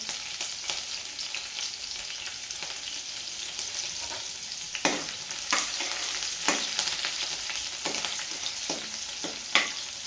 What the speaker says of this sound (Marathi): मिरची पण तळून झालेली आहे